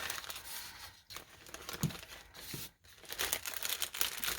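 Sheet of craft paper handled and crinkled while making brush bottle trees, with soft irregular rustles and crackles close by, a few brief louder crinkles standing out, and no talking.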